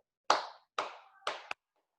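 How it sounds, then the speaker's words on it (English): Nursery children in a classroom clap for themselves with three distinct, resonant claps spaced evenly, followed by a sharp final clap, close and alone. "Clap for yourself"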